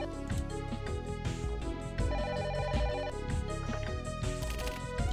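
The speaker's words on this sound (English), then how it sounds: "Phone!" A telephone rings in the video game The Silver Case, a loud, continuous electronic ringtone woven into a busy musical soundtrack.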